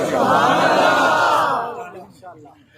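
A large crowd at a religious gathering roars a loud, sustained slogan of devotion in unison, one long massed shout that swells and then fades as voices trail off.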